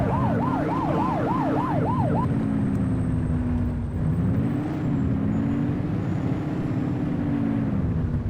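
Police car siren in the video game The Precinct, a quick yelping wail for the first couple of seconds, then a slower rising and falling tone over a steady engine drone.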